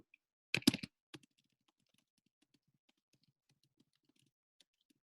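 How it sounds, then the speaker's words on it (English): Computer keyboard typing during a precalculus lesson: a short burst of rapid, fairly crisp keystrokes near the start, then a few faint scattered clicks in an otherwise quiet room. "Let me also type that out."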